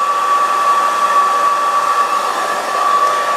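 A hair dryer fitted with a diffuser blows steadily as it dries hair, a constant close whine and airy rush with no pauses.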